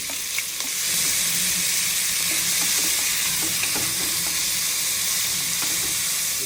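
Chopped onions and cardamom frying in hot oil, a steady loud sizzle with occasional stirring clicks, close and continuous with no talking.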